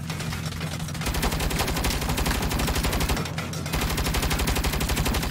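Rapid automatic gunfire aimed at a turret in Saints Row, a dense, steady stream of shots rattling on without pause, loud and close throughout.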